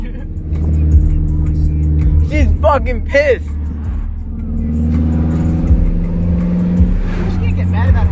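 A straight-piped Toyota Camry with no muffler drones loudly at close range, its engine rising and falling through revs with a deep rumble and some popping, while people talk over it.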